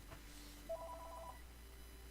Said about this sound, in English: Why does this phone ring?